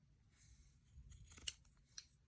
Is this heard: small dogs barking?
no